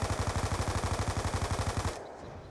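Rapid automatic gunfire in a video game, a fast steady stream of about two dozen loud shots that stops abruptly, leaving faint background sound.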